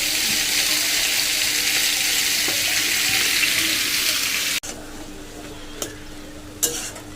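Leafy greens frying in a pan alongside a home kitchen meal, giving a steady loud broadband sizzle that cuts off abruptly, followed by quieter background with a few faint clinks.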